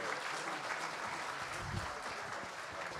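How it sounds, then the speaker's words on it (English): Dense, steady applause from a symposium audience for a panel of speakers, a continuous wash of many hands clapping that holds at an even level throughout. "You just get one more round of applause for all of them."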